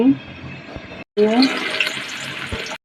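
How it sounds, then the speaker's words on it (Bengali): Water pours into a cooking pan of frying onions for a Bengali tengra fish curry, a close splashing gush in two bursts separated by a brief break, with a voice speaking nearby. "পানি দিয়ে দিচ্ছি"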